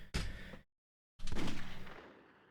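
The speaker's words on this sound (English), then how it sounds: "And we're already starting off with gunshot sounds" Gunfire in the video game Shadow the Hedgehog: a loud burst of shots, a sudden silence, then a longer rapid volley of pulsing automatic fire that gradually fades away.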